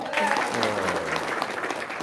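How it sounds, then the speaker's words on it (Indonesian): An audience at an Indonesian religious talk breaks into brief clapping, a moderate patter of hands heard alongside voices and some vocal murmuring in the room. "Tepuk tangan dong."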